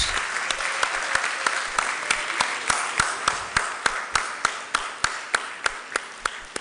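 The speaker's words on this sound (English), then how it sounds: "Keep clapping until he takes his plaque." Audience applause at a press-conference awards ceremony as a TV category winner goes up for a plaque; a steady, fairly loud wash of many hands clapping with sharper individual claps punctuating it throughout.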